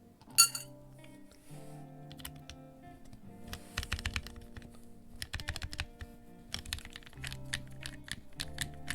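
Rapid keystrokes on a rebuilt Alix40 mechanical keyboard, clacking in close, uneven bursts with short pauses between runs, loud and alone with no talking.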